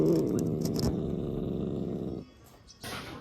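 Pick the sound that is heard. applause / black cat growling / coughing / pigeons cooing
black cat growling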